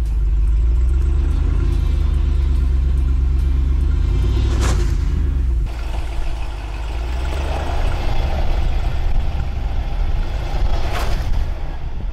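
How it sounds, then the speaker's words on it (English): A RAM 2500 Rebel HD pickup with a 6.7L Cummins diesel revs under load as a rear wheel spins on a traction board, a loud steady low rumble with a sharp knock midway and rising engine strain. "as I got on the throttle and there was enough torque delivered to this wheel, it shot out the traction board"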